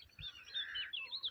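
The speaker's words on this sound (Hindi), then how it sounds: "तो ये कोयल बोल रही है।" A koel calls outdoors on a cool morning walk, giving faint, distant, rising whistled notes over a quiet background, with no talk.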